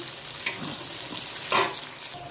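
Chopped onions, cut as for chilli chicken, hit hot oil in a pan with a steady close sizzle and two sharper bursts of crackle as they are tossed in.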